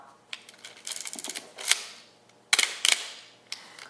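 A Pentax 67 medium format film camera fires its shutter several times, giving sharp mechanical clacks and whirring clicks at irregular intervals, close and fairly quiet with no speech.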